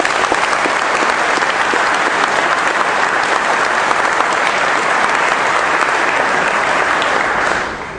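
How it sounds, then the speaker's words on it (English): Dense, continuous audience applause at a chief's retirement reception, steady and full for about eight seconds before tapering slightly at the end. "Give her a round of applause out there."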